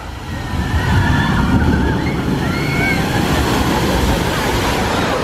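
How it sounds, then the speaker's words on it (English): A loud, sustained rush of churning water roars from start to finish from a log ride splashdown at the Islands of Adventure theme park, with faint high voices rising above the wash. "If you stand here and wait for the splashdown, you'll get hit with a big wave of air"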